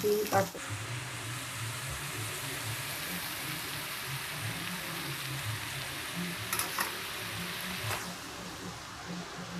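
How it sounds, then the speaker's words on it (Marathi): Potatoes sautéing in a pan, a steady soft sizzle with light stirring scrapes, moderately close and continuous, with a few brief clatters along the way. "मंडळी आपला बटाटा चांगला परतून झालेला आहे. हे बघा मस्त परतून झालेला आहे."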